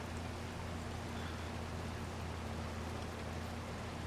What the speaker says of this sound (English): I think this is the first rain that I've